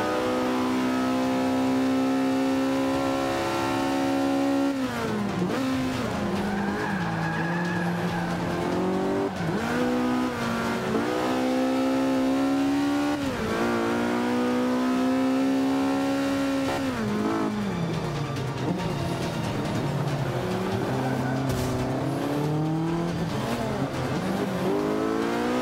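A race car in Forza Motorsport 5 on the Spa circuit accelerates repeatedly, engine pitch climbing then dropping with each gear change, with occasional tire squeal, loud and continuous throughout.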